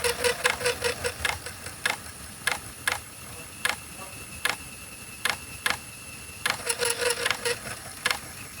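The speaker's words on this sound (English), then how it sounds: "the heads are scraping away whatever is on the floppies" A PS/2 floppy drive formatting a moldy floppy disk, its heads scraping across the surface: a steady mechanical whir broken by sharp, repeated ticking clicks, some in quick clusters and others spaced out, close and fairly quiet.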